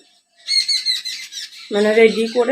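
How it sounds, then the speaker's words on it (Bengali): Birds chirp in quick, high bursts for about a second before a person starts talking over them. "পাখি কিচিরমিচির করছে"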